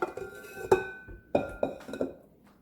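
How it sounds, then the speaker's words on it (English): Metal mixing bowl lifted off a stand mixer after pizza dough is pulled from the hook, giving a few bright clinks and knocks spread over a couple of seconds, close and fairly quiet. "And I'm going to remove the bowl."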